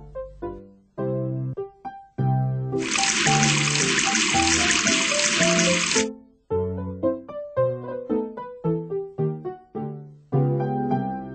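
Liquid pouring from a drink dispenser into a cup, a steady hissing stream lasting about three seconds, set amid loud musical notes playing before and after.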